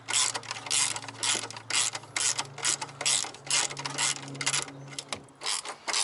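A ratchet with a swivel and extension works an exhaust bolt loose on an Alfa Romeo Stelvio Ti, giving rapid, close clicking in repeated short bursts over a low steady hum.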